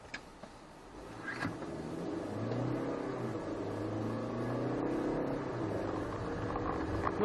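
A SsangYong Tivoli pulls away from a standstill with a steady low engine drone that rises gradually as it accelerates through the gears, heard from inside the cabin, moderate and continuous with no talking.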